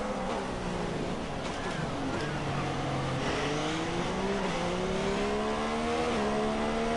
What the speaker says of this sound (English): you listen to the engine to know when to brake